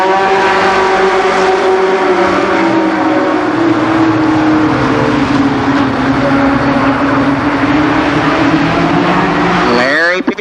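Stock cars race around Columbus Motor Speedway, their engines roaring steadily and densely from start to finish as a pack holds speed, with pitch shifting slowly as cars pass; a brief voice is heard near the end.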